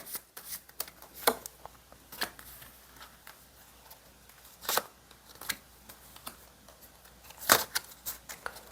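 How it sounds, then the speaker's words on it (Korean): Tarot cards being shuffled by hand, with repeated crisp riffling bursts and snaps at uneven intervals, close and clear, and no talking. "이제는 1번님에게 있을 일들을 좀 구체적으로 제가 카드로 뽑아 볼게요"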